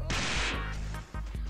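A sharp, loud explosion bursts at the start of an Epic Treasure battle, then gives way to a few softer thuds and hits.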